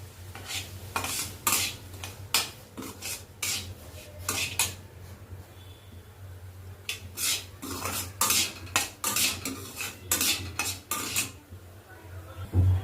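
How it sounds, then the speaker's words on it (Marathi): Semolina roasting in ghee in a kadhai, stirred with a metal spoon that scrapes and clinks against the pan in a quick, repeated rhythm over a low steady hum. "रवा घालून छान असं गोल्डन ब्राऊन होईपर्यंत परतून घ्यायचा हा रवा."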